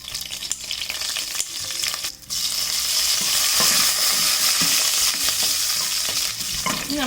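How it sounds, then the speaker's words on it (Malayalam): Toor dal and moong dal tossed and roasted in a hot oiled pan, with continuous sizzling and repeated scraping stir strokes, close and fairly loud, with no voices. "സാമ്പാർ പരിപ്പും ചെറുപയർ പരിപ്പും ഇതിലേക്ക് ഇട്ട് കൊടുക്കാം. ഇതുപോലെ ഒന്ന് മൂത്ത് വരുന്ന സമയത്ത്"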